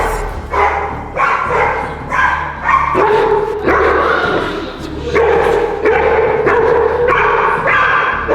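Dog barking repeatedly and loudly nearby, a run of sharp yips and barks in uneven bursts over several seconds, with excited voices and shouting mixed in.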